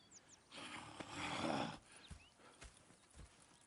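Horses in Red Dead Redemption 2 clip-clop close by, with a rustling burst of hooves and movement in the middle and then a few separate, sharper hoof knocks. A brief whinny may rise through it.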